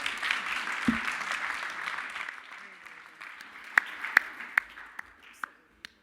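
Applause from a hackathon pitch audience fades out slowly, then a handful of sharp single claps ring out one by one at the end, moderately close.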